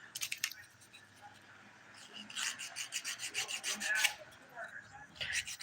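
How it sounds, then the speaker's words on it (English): A 180 grit nail file rasps across fingernails in quick, close, dry strokes, coming in uneven bursts with brief pauses, fairly soft overall. "I'm using the 180 grit side of my file here"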